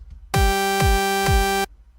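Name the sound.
FL Studio 3x OSC saw synth note with kick drum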